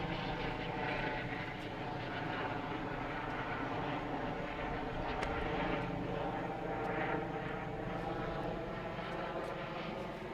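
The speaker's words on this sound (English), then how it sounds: "it's a police chopper or something, man" A police helicopter passes overhead, its steady, loud rotor and engine drone filling the whole stretch without letup, with some talk mixed underneath.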